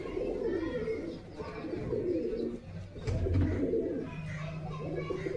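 Pigeons, hand-raised Bengal fancy birds bought at Beldanga market, coo in soft low rolling phrases close by, with someone talking over them throughout and a brief knock near the middle.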